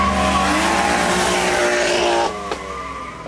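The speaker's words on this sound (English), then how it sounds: "There goes the Mustang." Modified Ford Mustang leaving a car meet in the rain, engine revving loudly up close with a tyre squeal, then fading slightly as it pulls away.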